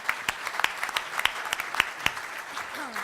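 Audience applause at a City Club gathering, with scattered claps popping out through about three seconds, fairly quiet and a little thin, as if from a modest crowd.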